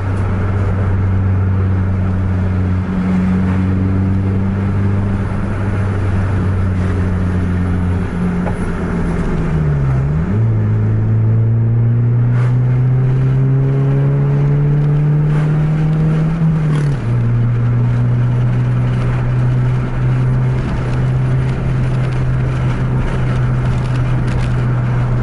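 A Mercedes-Benz 2445 sleeper bus accelerates hard with a loud, sustained engine drone close by. The pitch climbs steadily, drops sharply at a gear change, then climbs again before a second shift, with road and wind noise underneath.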